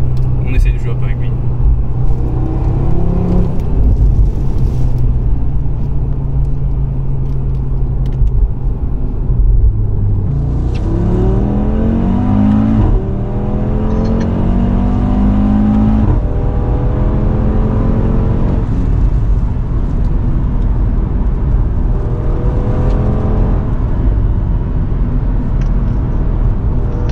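A BMW M135 driving on the road, its engine a loud close rumble that climbs and falls through several rising revs and gear changes, with a voice talking over parts of it.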